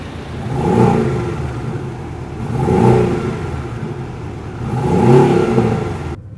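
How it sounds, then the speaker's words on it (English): A Porsche 718 Boxster engine revs loudly three times in sport mode with exhaust valves open, each throaty exhaust surge rising and falling, with a steady idle rumble in between. "it activates valves in the exhaust and it makes the sound a lot louder"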